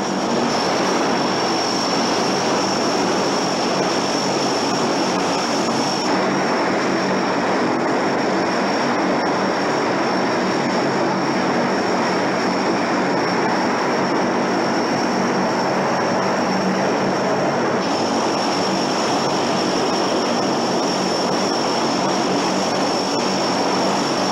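Military propeller transport aircraft carrying 82nd Airborne troops over Grenada drone loudly and steadily with a constant engine roar and a whining tone, close and unbroken throughout, with no voices.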